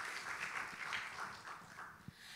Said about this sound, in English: Please give a big round of applause to thank them and yourselves